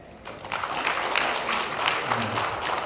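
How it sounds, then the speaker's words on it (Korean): Applause from a church congregation at a Sunday service, a soft, diffuse wash of clapping that starts abruptly and holds steady at a moderate distance. "떡을 해주신 그 분께 박수를 줍니다"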